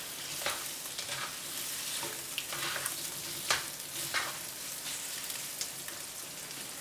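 Eggs and shrimp fry in a pan for Pad Thai, giving a steady close sizzle broken by sharp crackles and pops throughout, with no talking.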